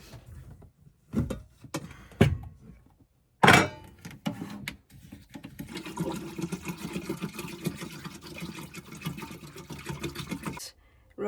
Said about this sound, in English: I just fill it up with these water bottles that I store in the shower